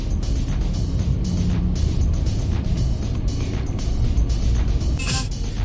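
A car driving on a road in traffic, heard as a steady, loud rumble of engine and road noise from inside a moving vehicle, with a brief brighter burst near the end.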